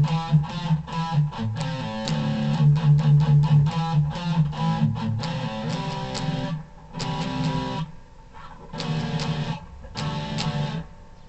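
A guitar plays the riff of a song in a rhythmic run of plucked notes and chords, close and clear, with short pauses between phrases and no talking.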